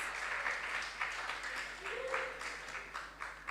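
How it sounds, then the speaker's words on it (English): An audience at a junior science and maths quiz regional qualifier in Ghana's Ashanti Region applauds the school contestants: faint, distant, steady clapping with a brief tone partway through. "A round of applause for our contestants."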